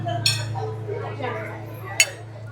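Fork and spoon clink against a plate while fish is eaten, two short bright metallic taps under a steady low hum and murmured talk in the background.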